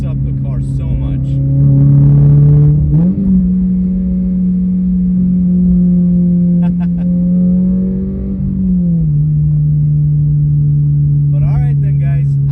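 A 2023 Toyota GR86 fitted with an AWE catback exhaust drones loud and close in a steady low note, rising slightly in pitch twice as the engine is blipped, then settling back.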